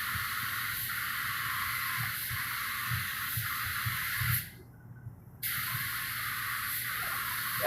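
Spray gun laying clearcoat on a new replacement hood for a Ford Everest in metallic aluminum, a steady loud airy hiss that cuts off for about a second and then resumes.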